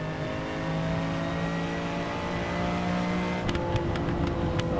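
A steady, humming car engine drone with layered tonal whine in a racing video game, joined near the end by a few sharp clicking bursts.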